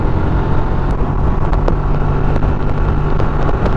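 Motorcycle engine hums steadily while riding uphill toward Baguio, loud and close, with strong wind buffeting and a few sharp clicks and knocks over the continuous drone.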